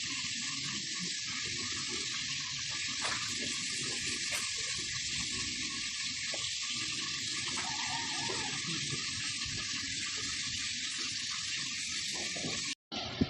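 Food fries in hot oil with a continuous, even sizzle and crackle that stays close and steady, broken by a sharp clatter near the end.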